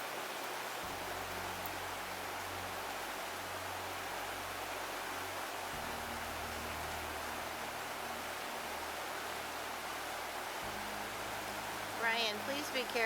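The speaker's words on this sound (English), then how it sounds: "This is Flume Falls." Flume Falls, a waterfall in the Adirondacks, gives a steady broadband roar of falling water, with faint low hum beneath and a brief rustle near the end.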